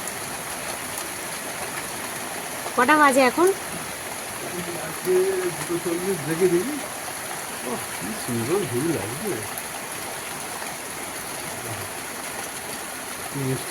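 Sudden heavy rain pours down steadily, a broad continuous hiss of water falling on surfaces nearby, with people talking briefly over it.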